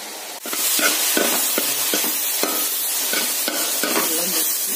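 A leafy vegetable thoran with onion and salt is stirred in a frying pan, repeated scraping strokes of a spoon against the pan over a close, constant sizzle.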